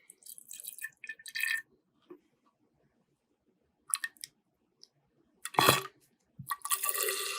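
Contact solution drips into a graduated cylinder while slime is being made, giving sparse, quiet drips and small liquid sounds separated by long silences, with a few louder splashy bursts.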